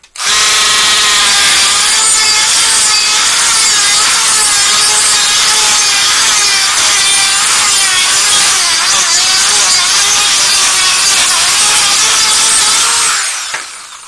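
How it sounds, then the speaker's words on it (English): Dremel rotary tool on high speed sanding the inside of a Nerf hopper clip part, a loud, steady high-pitched whine that runs unbroken for about thirteen seconds, then stops. "Dremel was on medium."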